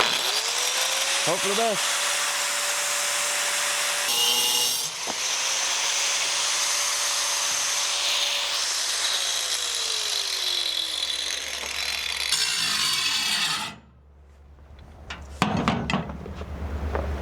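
A metal pole on a truck bed is cut freehand with a loud, continuous power-tool grinding whine that runs steadily for about thirteen seconds, then stops; someone speaks briefly near the start and again after the cut.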